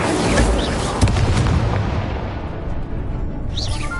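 Blasts of the Incendio fire spell in Hogwarts Legacy come as whooshing, booming bursts over continuous combat noise, with a sharp hit about a second in and another flare near the end.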